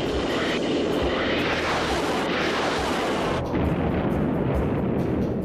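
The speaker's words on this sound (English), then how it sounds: "7-barreled cannon is the most powerful gun ever to take to the skies." A dense, continuous roaring burst of rapid fire from an A-10 Thunderbolt II's seven-barreled cannon, loud and sustained, with a jet aircraft rumble carrying on underneath as it ends.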